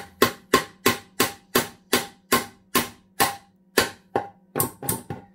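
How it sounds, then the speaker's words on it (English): A drop-forged steel 1 lb driving hammer pounds a screw like a nail, about fifteen sharp metallic impacts in a steady rhythm that quickens slightly toward the end, close and loud with no talking. "you can drive a screw like a nail"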